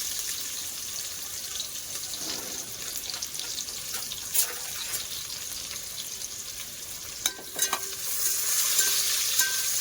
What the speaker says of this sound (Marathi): आता आपण त्याच्यामध्ये तेजपत्ता टाकूया आणि 1 बारीक चिरलेला कांदा आहे तोही टाकूया. चांगला परतून घेऊया.